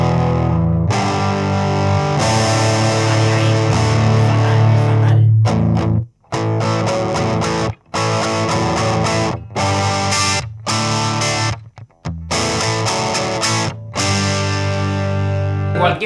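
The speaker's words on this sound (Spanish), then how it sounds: "si le metes un piñazo esto suena horrible" Electric guitar played through a cheap amplifier's heavily distorted channel, loud and continuous with sustained chords and a few brief stops, no talking over it.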